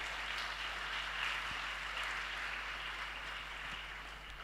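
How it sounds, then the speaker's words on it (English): Steady round of applause from an audience at a school symposium closing ceremony, a dense, even wash of clapping held for several seconds without a break or any voices over it. "Let's give a round of applause to all of us."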